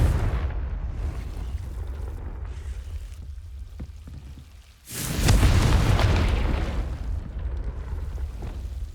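The Confringo explosion spell goes off in Hogwarts Legacy: after a quieter stretch, a sudden loud, deep blast bursts out midway and rumbles on as a broad roar that slowly fades, with no talking.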